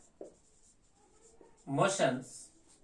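Writing on a classroom board during a physics lesson: short scratchy strokes come through at moderate volume, partly overlapped by a voice.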